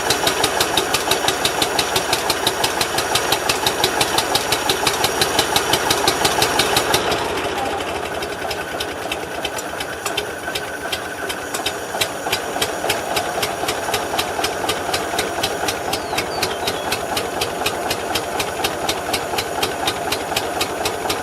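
A Ford 3000 tractor engine under repair for its electrical and fuel delivery fires up and settles into a steady, loud, rhythmic diesel clatter that runs without pause, alone with no talk.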